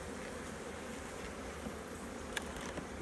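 A honey bee colony hums steadily at an open hive, a dense continuous buzz close by with occasional louder passes of single bees and no talking.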